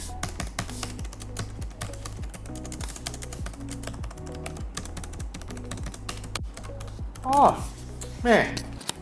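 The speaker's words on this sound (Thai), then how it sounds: "มันเป็นแป้นพิมพ์ที่ใช้เชอรี่ MX นะครับ" Rapid keystrokes on a gaming laptop's Cherry MX mechanical keyboard clatter steadily and close up, with a couple of louder voice-like bursts near the end.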